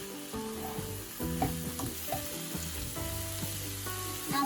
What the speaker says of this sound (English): add in the all-purpose flour. Fry it along with the mushrooms.